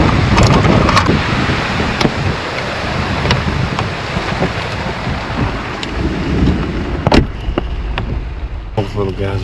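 A huge thunderstorm with heavy rain and wind batters a campsite. The wash of rain is loud and continuous, with sharp cracks and rumbles of thunder breaking through near the end.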